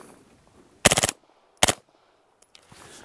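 A suppressed B&T SPC9 PDW SD submachine gun fires two short bursts of several rapid, muffled shots each, loud and close against a quiet outdoor background.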